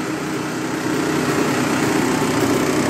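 A motorcycle engine runs close by with a steady buzzing drone that swells slightly partway through, a continuous loud mechanical hum with no talking.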